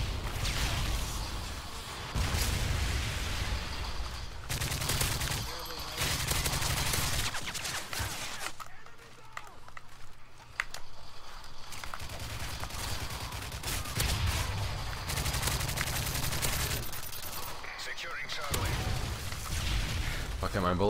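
Sustained bursts of gunfire and explosions in a shooter video game, loud and dense with a brief lull midway, while a person talks over the action.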